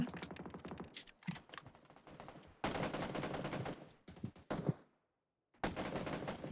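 Heavy automatic gunfire in PUBG Battlegrounds, with long, dense bursts and rapid volleys that stop abruptly, leave a short silence, then start again loud and close.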